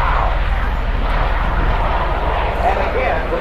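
A tiltrotor aircraft flies in conversion mode at an air show, making a loud, steady engine and rotor roar that fills the whole moment without a break.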